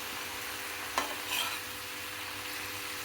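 Fried amaranth leaves are tossed and mixed in a pan: a soft, quiet sizzle runs throughout, with a sharp scrape of the utensil near the start and a brief rustling stir just after, and no talking.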